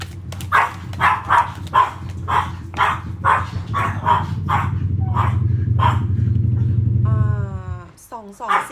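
A dog barks repeatedly at a passing car, a rapid string of sharp barks followed by a rising engine rumble as the vehicle goes by, with a brief whine-like yelp near the end.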